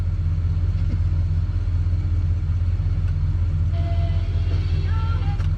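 A 1970 Dodge D-100 pickup idles in a barn-find setting, its engine a steady low rumble with faint higher sounds drifting over it.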